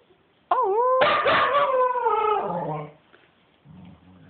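A dog howls in a long, rising and falling wail that swells loudly for about two seconds and then fades, after which a faint low murmur follows.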